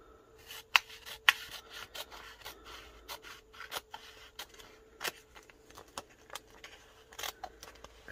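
Koala matte white printable vinyl peeled back from its backing during a tumbler wrap: a series of close, quiet rasping and crackling peels with a few sharper snaps, over a faint steady hum.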